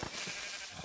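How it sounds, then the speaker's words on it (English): Sheep bleating in the Minecraft video game, a short soft animal call against steady background noise, brief and fairly faint. "And I find some sheep"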